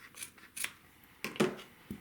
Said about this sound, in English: I'll just take my scissors and cut